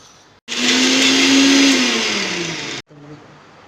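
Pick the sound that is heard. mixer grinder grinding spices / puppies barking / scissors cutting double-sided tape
mixer grinder grinding spices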